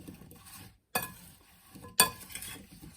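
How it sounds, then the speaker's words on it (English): Apples being stirred in a bowl with lemon juice, sugar and cinnamon give two sharp scrapes or clinks against the bowl, with soft scraping and rustling between them and no talking. "And I'm going to stir this up."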